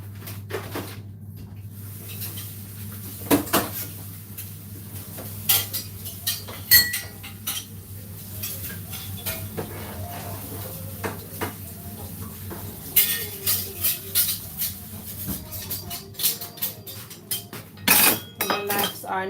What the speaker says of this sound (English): gonna give my knives a rinse. Rinse off my knife